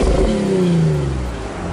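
An Infiniti G35 revs up nearby, with a brief loud engine surge and rising pitch, plus some rough clattering from the muffler, over under two seconds.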